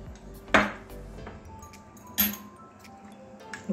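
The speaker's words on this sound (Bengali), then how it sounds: "গুড় দিয়ে আবার ভালো করে মিশিয়ে নেব।" Spoon stirring mango patisapta batter with jaggery in a bowl, a few separate sharp clinks against the bowl over a quiet background, close and sparse.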